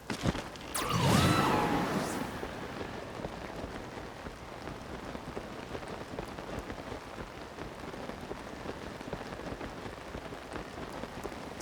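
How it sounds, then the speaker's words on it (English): Steady rain falls across an outdoor landscape in The Legend of Zelda: Tears of the Kingdom, set in the Eldin region. It is a constant soft hiss with a brief louder swell near the start. "It's all rainy."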